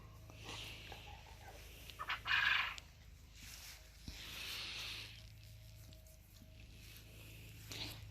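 Farmyard quail call on a sunny afternoon: a short, bright burst of calling stands out near the middle, with fainter calls before and after against quiet outdoor ambience.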